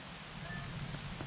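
Rain in Zelda: Twilight Princess, a steady, even hiss of falling drops that holds constant throughout the brief moment.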